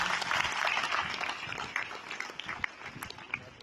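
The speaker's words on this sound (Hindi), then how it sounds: "उनके लिए भी आप जोरदार तालियां बजाइए।" Audience applause at a speech event, a broad crowd clapping that stays full at first and then thins into scattered individual claps, heard at moderate distance.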